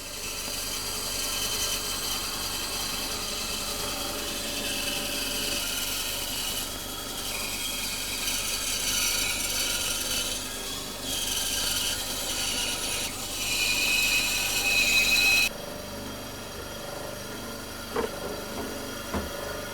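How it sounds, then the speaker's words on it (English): Band saw cutting a wood circle, a continuous buzzing, rasping whine that rises and dips as the blade works through the timber, then cuts out near the end; no talk. "We then transfer this over to what is known as the band saw."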